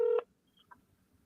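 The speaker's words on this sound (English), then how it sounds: "To accept, press 1" One short telephone keypad tone sounds as 1 is pressed to accept a Google Voice call, a clear brief beep followed by near silence with a faint click or two.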